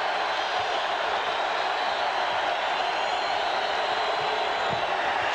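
Steady roar of a basketball arena crowd rising during a Big 12 Tournament championship game between Iowa State and Oklahoma in 2000, a broad continuous wash of cheering and noise throughout.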